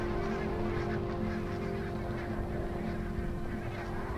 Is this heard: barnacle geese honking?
yes